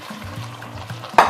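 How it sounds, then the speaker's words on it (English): Hot water poured onto rice in a pot for jollof, with a brief low gurgling pour and a sharp hiss and splash at the end. "I'm just going to add this much of hot water to my rice"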